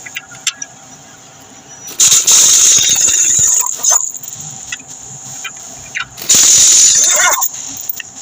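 Wheel coming off a Hyundai Sonata for suspension work, with two loud bursts of harsh mechanical rattling separated by quieter stretches of faint clinks.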